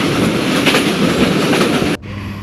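The Rocket Express mail train on the Khulna to Jessore line rumbles along loudly with a steady rattling clatter of wheels on track, cutting off abruptly near the end.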